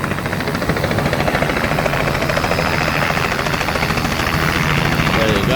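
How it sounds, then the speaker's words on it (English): A helicopter arrives near the Mary Valley Rattler steam train, its rotor beating in a loud, steady chop with a droning engine whine, while people talk over the noise. "also a bit of a special helicopter coming in."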